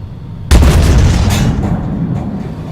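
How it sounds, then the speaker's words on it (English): A tank's main gun fires in the video game Armoured Warfare: one sudden, loud, deep blast that fades into a long rumbling roll lasting a couple of seconds, with no voices. "you can notice a little gun sound there"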